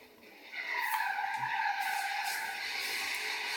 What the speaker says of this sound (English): It's just awesome drift. Awesome knee drift.